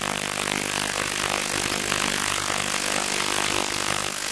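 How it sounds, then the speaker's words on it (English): A continuous, harsh motorized whine of a power drill boring a hole, steady and close, with no talking. "we're going to drill a hole."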